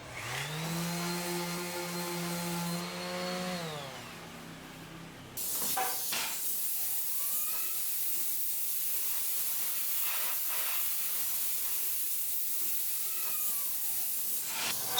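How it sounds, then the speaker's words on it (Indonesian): An electric sander works over planed wood whose gaps were filled with glue and sawdust, after a steady harmonic motor whine that winds down; then a broad, continuous hissing abrasion runs steadily at close range. "Kemudian diamplas lagi."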